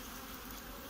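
Honeybees at overwintered nucleus hives in spring, a steady close swarm buzz with a constant drone, faint and unbroken, no voices.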